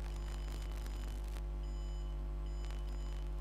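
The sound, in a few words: beep from a cheap Arduino heart pulse sensor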